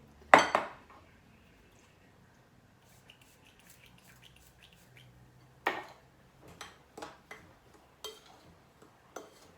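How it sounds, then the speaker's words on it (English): Stirring a toilet bomb mixture in a bowl, heard as a loud clatter of the utensil against the bowl at the start, then a quiet stretch and a series of sharp, separate clinks and scrapes spaced a second or so apart near the end. "Just going to keep on stirring it."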